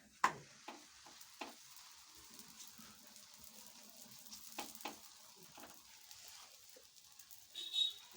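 Holige flatbread frying in oil on a gas stove, giving a soft steady sizzle with scattered crackles and faint taps, quiet and close, with no talking.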